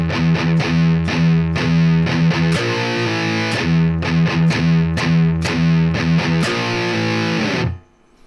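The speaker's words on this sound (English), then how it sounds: "I'm using a gallop rhythm to begin the first beat," Distorted electric guitar plays a thrash metal gallop rhythm, bursts of quick uneven triplet-like chugs mixed with steady eighth notes, loud and up close, then cutting off into silence at the end.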